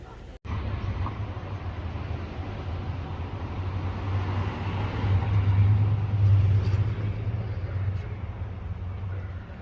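Cars driving along a residential street in Canada during a film shoot, a steady low road rumble that swells midway as a vehicle passes nearby, then eases off.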